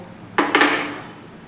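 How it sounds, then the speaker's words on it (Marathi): Metal spoon scraping and clanking against a pan while stirring halwa with ghee, two sharp close knocks followed by a short fading scrape. "सर्व तूप आपण यामध्ये घालून पुन्हा एकदा व्यवस्थित याला मिक्स करून घेऊयात"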